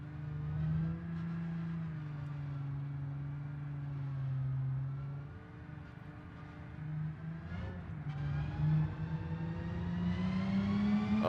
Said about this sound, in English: Nice V6 supercharger. Hell yeah. Straight cut gears.